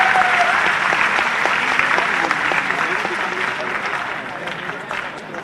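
A large audience at a youth convention in Bhopal breaks into loud, sustained applause welcoming a Madhya Pradesh minister onto the stage, clapping steadily then slowly tapering, with a voice over a speaker system briefly heard.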